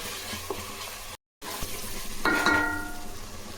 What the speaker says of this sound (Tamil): ஒரு 5 நிமிஷம் இஞ்சி பூண்டு போட்டு நம்ம நல்லா வதக்கணும்.